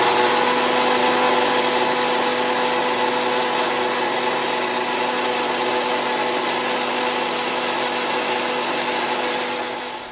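A mixer grinder blends coconut paste with added water for egg kurma, giving a steady, close, unbroken motor whir and churn with a constant pitch that runs the whole time without talk before trailing off at the very end.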